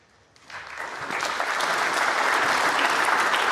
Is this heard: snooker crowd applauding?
yes